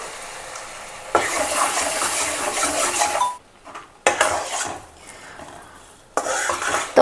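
Scraping and stirring of flour roasting in a pan for sukhadi, bursts of gritty rustling broken by short pauses, close up with no voices.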